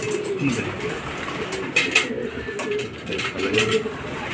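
Racing pigeons arrive at a loft after a club training flight, low cooing and wing flutters close by, with faint voices talking in the background.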